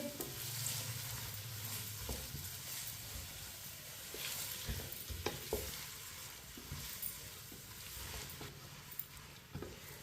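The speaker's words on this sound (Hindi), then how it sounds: "प्याज को हल्का सा ब्राउन कर लेंगे" Sliced onions stir-fried in a pan over a medium flame for Hyderabadi chicken biryani, with a steady close sizzle broken by repeated scraping stirs of the spoon throughout.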